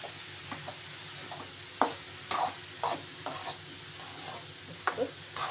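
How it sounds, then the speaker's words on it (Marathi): Vegetable stuffing for sweet corn momos, mixed with Kashmiri red chili powder, gets stirred in a pan in a series of soft scraping strokes over a faint background sizzle, close by and with no talking. "भाजी व्यवस्थित हलवून घ्या, मसाला सगळा स्टफिंग आपलं।"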